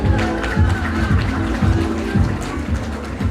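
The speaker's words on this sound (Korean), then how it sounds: "박수로 환영해 주시기 바랍니다" Audience at a political gathering applauds to welcome former Prime Minister Hwang Kyo-ahn, a steady dense clapping with low thumps and crowd noise running throughout at fairly loud level.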